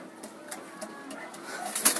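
Racing pigeons in a loft give soft, low cooing calls amid faint rustling, close but quiet, with no voices.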